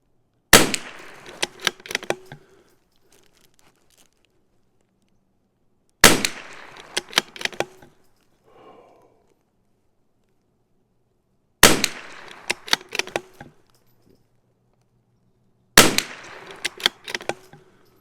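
Four loud, sharp CZ 457 rifle shots fired at a 50-yard range, spaced several seconds apart, each a crisp crack followed by a brief ringing tail and quiet gaps between.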